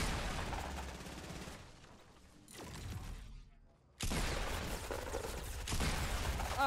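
Bursts of P90 gunfire in the video game Fortnite, dense rapid shots in two loud stretches separated by a quieter gap, with mechanical clicks between.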